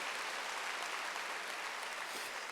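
A church congregation at a Wednesday worship service claps steadily together, dense and sustained applause filling the hall with no voices over it.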